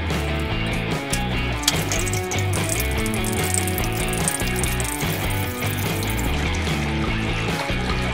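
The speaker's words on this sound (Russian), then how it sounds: "будем заливать это холодной водой." Cold water pours steadily into a container of honey for mead, a continuous splashing trickle that stays even throughout, with no one speaking.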